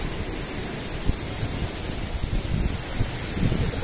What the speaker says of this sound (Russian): Но здесь тоже еще видно волны.